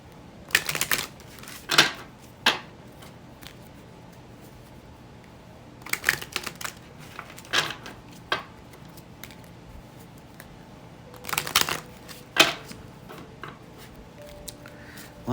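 Tarot cards are shuffled in several quick riffling bursts separated by pauses, crisp and close, with no talking.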